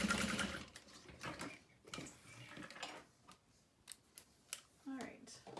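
A sewing machine stitching a fabric Alexa bag runs in short mechanical bursts and stops, fairly close and moderately quiet, with a few sharp clicks and some talking.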